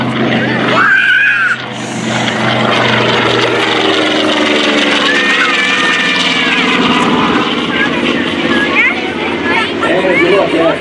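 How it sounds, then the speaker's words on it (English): A World War II TBM Avenger torpedo bomber at the 2019 Leesburg Airshow roars by with a steady, loud propeller drone that holds throughout, while people chatter nearby over the engine noise. "This will be a nice photo opportunity to take a look at this legendary aircraft, the TBM Gun Torpedo Bomber."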